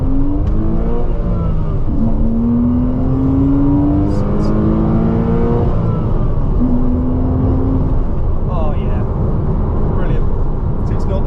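A Porsche engine revs hard as the car accelerates through the gears, rising whines dropping at each shift, heard from inside the cabin beneath ongoing conversation.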